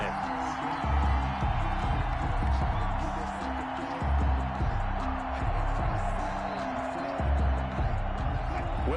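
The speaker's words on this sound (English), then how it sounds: "And this crowd loves it as their guys hold on the opening drive." A stadium crowd in the Madden 21 American football video game keeps up a steady roar that swells and dips through an opening-drive defensive stand, with low broadcast voices running underneath.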